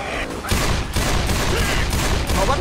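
Loud, dense gunfire from Left 4 Dead 2, a sustained rapid fusillade of overlapping shots starting after a brief quieter lead-in and continuing without pause, with faint voices mixed underneath.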